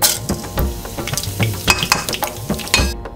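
Mustard seeds, fenugreek and cumin sizzle and pop in three tablespoons of hot oil in a pan, with bursts of crackling and spatter and some scraping of a utensil against the pan.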